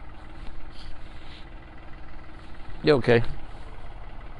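A tractor engine idles steadily at a low, moderate level on a farm while people talk briefly over it.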